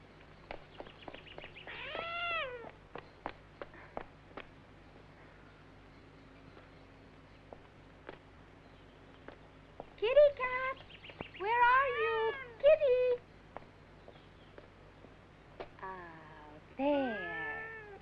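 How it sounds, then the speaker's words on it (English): A female house cat meows several times in drawn-out, wavering cries, one early and then a run of insistent meows later on, clear and close over a quiet room. "She's a very naughty cat"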